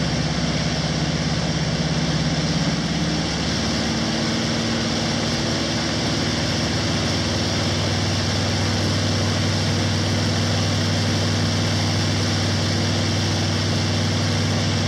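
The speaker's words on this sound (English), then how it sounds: "the radial springs to life, producing a deep, throaty rumble that quickly grows into a powerful roar" A 14-cylinder radial aircraft engine running steadily, a deep constant rumble with a droning hum that shifts slightly in pitch, loud and close.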